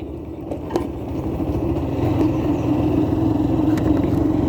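A steady Hero Thriller motorcycle engine drones throughout as the bike rides along a tree-lined, partly broken road, with a constant low rumble and wind noise and no talking.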